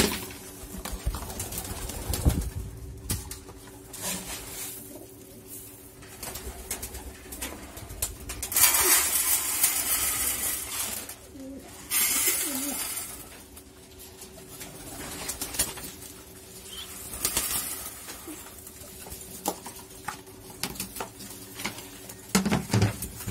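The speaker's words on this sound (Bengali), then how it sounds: "এখন কবুতর গুলোকে খেতে দেব।" Pigeons kept in a loft coo repeatedly in low throaty calls, with scattered flutters, pattering and light movement noises nearby, no talking.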